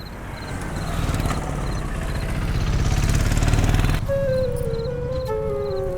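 A motorbike engine rumbles up as the bike pulls away. The drone is close and sustained and builds gradually, then the sound changes abruptly near the end.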